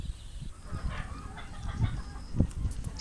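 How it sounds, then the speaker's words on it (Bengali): A Kadaknath chicken clucks softly in short, scattered calls close by, over low background rumble and faint farmyard noise. "এটা একটা করকনাথ মুরগি"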